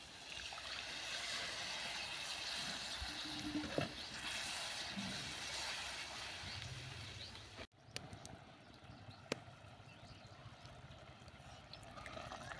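Water is poured into a fried masala paste in a pan for a double bean curry, giving a soft, steady watery rush and bubbling for several seconds, then quieter kitchen clatter with a few light knocks.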